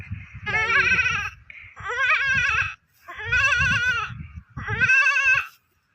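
A goat bleats four times in Kudal, Konkan, each long, loud, quavering call separated by short pauses, close and alone.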